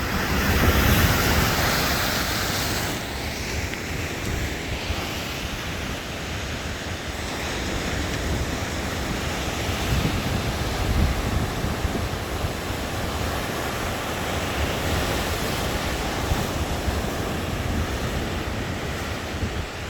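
Big ocean waves break and wash onto a beach in a continuous roar of surf, with gusting wind buffeting the microphone, heard close and steady with no voices.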